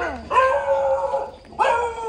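A dog named Rio lets out two drawn-out, whining barks close by, separated by a brief pause, loud and clear over a quiet background.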